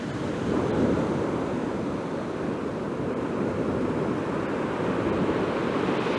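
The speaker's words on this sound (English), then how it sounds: "Hear the waves crashing," Sea surf on the east coast of the United Kingdom at Chapel St. Leonards rolls in as a constant broad wash of breaking waves, with wind buffeting the microphone and no voices.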